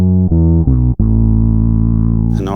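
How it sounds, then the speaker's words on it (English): A bass guitar run through fuzz, filter and octave effects, with the clean octave mixed back in, plays a few sustained, buzzing, synth-like notes, loud and close, with a sharp cut between notes. "So the clean octave is getting mixed back in with the fuzzed, filtered octave."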